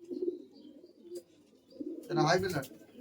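Giribaz high-flying pigeons at a pigeon sale in Murshidabad, West Bengal, coo in a low, continuous murmur near the listener, and a person talks briefly toward the end.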